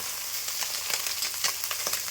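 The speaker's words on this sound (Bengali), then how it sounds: "মাছগুলা উল্টানো হচ্ছে দেখতে পাচ্ছ ভালো মতো করে কি ভাজা হচ্ছে দেখো" Fish fry in hot oil, giving a close, continuous crackling sizzle with small irregular pops, heard alone without any talking.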